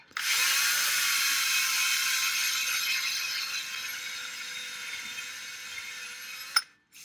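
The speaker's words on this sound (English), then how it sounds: "we're using our drill and this little wire brush attachment" A power drill fitted with a small wire brush attachment whirs steadily as it scrubs a 10-inch subwoofer during a rebuild, a loud high whine that fades slightly before stopping abruptly near the end.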